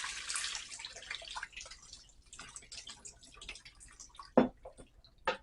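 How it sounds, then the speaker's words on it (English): Water is drained out of a cooking pot while making a Mexican mash: a rushing pour at first that thins into trickles and scattered drips, with one sharp clank near the end and no talking. "So we are going to drain the water out of this."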